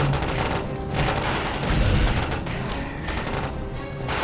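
Fire bomb explosions and battle gunfire in the BattleField Commander mobile strategy game, a dense, continuous barrage of booming bursts and rattling shots filling the whole stretch at steady loudness.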